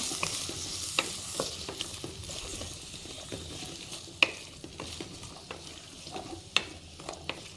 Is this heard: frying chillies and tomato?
yes